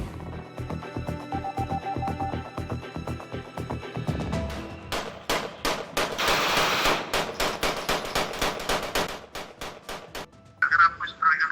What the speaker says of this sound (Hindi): उस फायरिंग की वीडियो भी वसीउल्लाह लाखों ने खुद शेयर की।